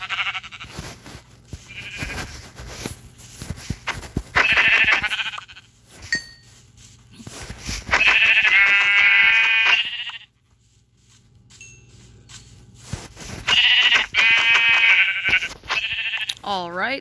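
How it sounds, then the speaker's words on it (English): Sheep in the Minecraft video game bleat repeatedly, several loud close wavering cries spaced across the stretch, with a voice talking in between. "we need to start off by killing some sheep for wool"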